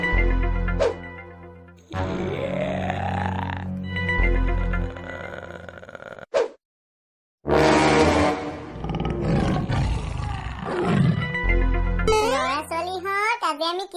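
Cartoon tiger in an Assamese comedy cartoon letting out a loud roar, with the roaring bursts broken by a brief silence and followed by squeaky, high-pitched cartoon sounds, alongside children's voices talking.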